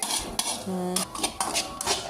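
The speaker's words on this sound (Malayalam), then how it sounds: "ഞാനിങ്ങനെ കൈ വിട്ടാതെ ഇളക്കിക്കൊണ്ടേയിരിക്കും" Coconut being stirred as it roasts in coconut oil, a metal spoon scraping and clinking against the pan in repeated bursts, close and fairly loud, with no talking.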